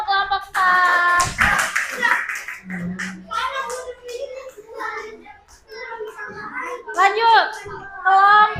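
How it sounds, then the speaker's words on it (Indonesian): Children in a classroom clap for a group in a brief burst of applause, mixed with lively kids' voices and chatter that continue after the clapping fades. "Tepuk tangan untuk kelompok start."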